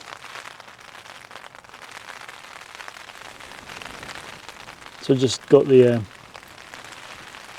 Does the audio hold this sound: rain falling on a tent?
yes